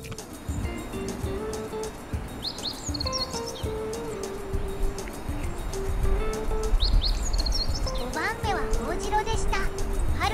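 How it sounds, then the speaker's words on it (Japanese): Small birds sing and chirp in repeated bursts from one side over a reed-cut wetland with fresh shoots, near paddy fields, with a steady low background hum; a person speaks quietly at times. "右手から鳥のさえずりが聞こえています。"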